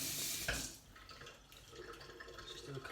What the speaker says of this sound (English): Give that a quick rinse.